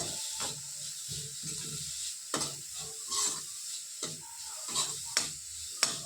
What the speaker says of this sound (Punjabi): ਹੁਣ ਆਪਾਂ ਮਸਾਲਿਆਂ ਨੂੰ ਮਿਲਾ ਲਿਆ ਸਬਜ਼ੀ ਦੇ ਵਿੱਚ